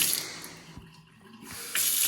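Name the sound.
water running from a tap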